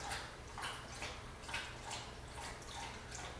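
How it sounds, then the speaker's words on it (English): A dog laps water from her water bowl nearby, a steady rhythmic series of wet slurps roughly every half second, fairly quiet against a low background hum. "You're going to hear my dog drinking in the background"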